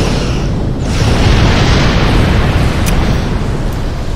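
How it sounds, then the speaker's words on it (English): Starship torpedo hits on an enemy vessel in the space combat game Star Trek Online, heard as a loud, sustained explosive rumble with a dense low-end roar that swells and holds for several seconds, with no voices. "let's put some torpedoes into this guy"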